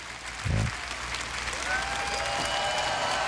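A large crowd applauds Tim Cook at Apple's iPhone 7 event in a big music theater built for rock concerts, a steady wash of clapping with a single thump near the start.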